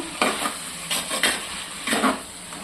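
Chicken with yogurt fries in a clay pot while a spoon stirs it, bursts of scraping and sizzling in several quick strokes over a soft, steady frying hiss.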